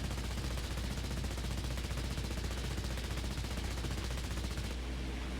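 Machine guns of a Polikarpov I-16 Ishak fighter in War Thunder fire in one continuous, dense rattling burst, loud and steady throughout, cutting off just before the end with no talk over it.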